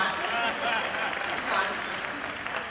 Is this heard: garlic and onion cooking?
no